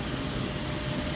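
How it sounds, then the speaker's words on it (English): Steady broadband roar of a China Southern airliner's jet engines heard while boarding, a continuous even rumble with no talk. "Boarding China Southern's airplane now."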